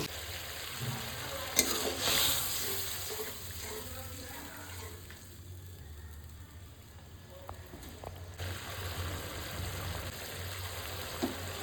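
Water hits a pan of frying spice masala, setting off a loud sizzle and bubbling that gradually softens as it settles, with a few clinks of a utensil.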